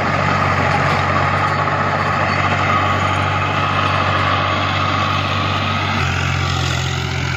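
A New Holland Al Ghazi 65 HP tractor runs with a rotavator tilling soil, its engine a loud, steady diesel drone that shifts pitch slightly near the end, with no talking.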